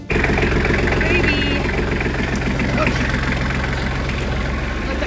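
A farm tractor engine idles steadily while warming up, a loud, constant low rumble with a faint knocking texture that runs unbroken and close by.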